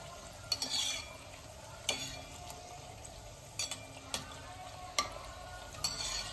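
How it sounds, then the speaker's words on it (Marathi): Bhature sizzle and crackle steadily in hot oil, with sharp clinks of a slotted spoon every second or so. "दुसऱ्या साईडने तळून घेऊया."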